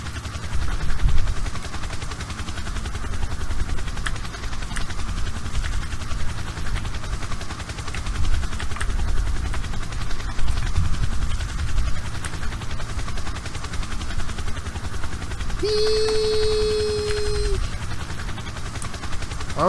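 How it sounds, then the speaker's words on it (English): A helicopter in the Helicopter Flight Simulator video game makes a constant rotor and engine drone. Its rumbling, chopping noise stays loud throughout, and a brief electronic tone sounds near the end. "we are going to try to learn to fly a helicopter"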